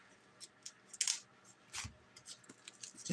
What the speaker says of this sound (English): let me get my scissors here, and we're going to open these up.